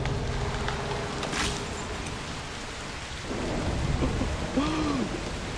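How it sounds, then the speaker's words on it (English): A thunderstorm with rain in the video game Broken Pieces: steady loud rainfall with a rolling thunder crack, then brief high chiming game tones near the end. "A storm could help. Start a storm?"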